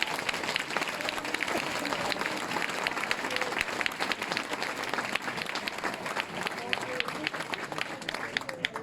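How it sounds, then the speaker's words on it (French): Sustained audience applause filling a political meeting hall at Conquereuil, dense and steady clapping from a large seated crowd throughout, with faint voices mixed in. "On peut applaudir tous ceux qui ont fait venir du monde."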